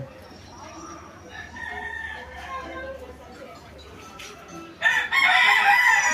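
A Dan Gray Roundhead gamecock rooster crows loudly and close by near the end, after a stretch of quieter farmyard sound with faint clucking and someone talking.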